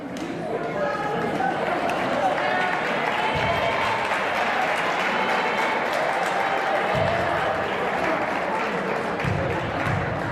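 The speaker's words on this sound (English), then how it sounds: "Villa Walsh crowd giving Maddie Comeau a standing ovation" A high school girls' basketball crowd in a gym gives a standing ovation, with sustained applause and cheering filling the hall and murmured voices and chatter mixed throughout.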